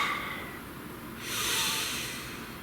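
A slow, deep breath drawn in and released close to the microphone, a soft airy hiss that swells midway and fades, with no talking.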